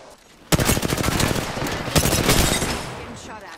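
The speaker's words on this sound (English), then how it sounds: "Getting shot at." Rapid automatic gunfire in the Apex Legends battle royale game on the Storm Point map, a dense burst of close, loud shots that starts abruptly and rattles on for about three seconds before tapering off.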